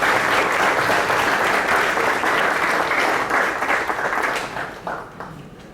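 Conference audience at a digital transformation conclave breaks into sustained, loud applause from a large crowd, steady for several seconds before thinning and fading out.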